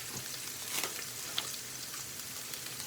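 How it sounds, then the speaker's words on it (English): Onion frying in a pan, a steady close sizzle with soft crackles and a few sharper pops, unbroken for about three seconds with no voices. "this onion is gonna brown quick"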